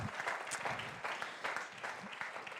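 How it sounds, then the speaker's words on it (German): A church congregation claps steadily for Jakob during a worship service, with a dense, even patter of many hands and no voices rising above it. "Wir geben Jakob einen grossen Applaus."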